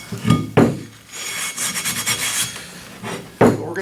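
An abrasive pad rubs back and forth across a cast iron skillet to clear surface rust, giving close, dry scraping strokes in short bursts with brief pauses between them.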